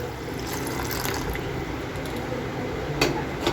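Water is poured from a small pot into a cooking pot for boiling pasta, a continuous splashing gush with a few clinks near the end, close by and without talk.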